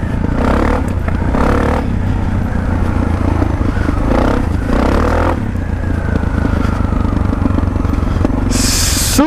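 Suzuki DR650 dual-sport motorcycle struggling through deep mud, its engine revving hard in loud repeated bursts with clattering and scraping, close and continuous throughout.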